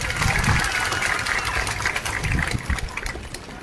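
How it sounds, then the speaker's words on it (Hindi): Crowd applause for Bidyut Dev Varma at a gathering, a dense sustained patter of clapping hands with voices mixed in, steady throughout and fairly loud. "थोड़ा ताली विद्युत देव वर्मा के लिए भी दे दीजिए"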